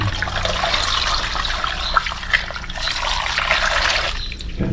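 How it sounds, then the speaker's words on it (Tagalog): Water pours into a cooking pot being filled for steaming, a steady close splashing rush that runs unbroken for several seconds, then eases slightly near the end, with no talking. "Lagay na tayo ng tubig."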